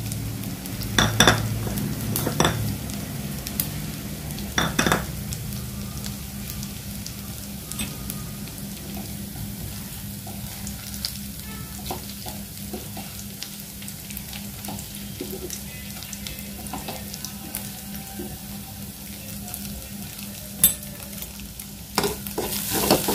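Spoon stirring garam masala, Kashmiri red chilli powder and salt in a frying pan for aloo paneer kofta curry, with a soft steady sizzle and scattered scraping and clinking of cutlery against the pan, a few louder knocks near the start.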